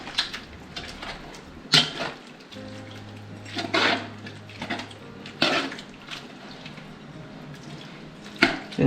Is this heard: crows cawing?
no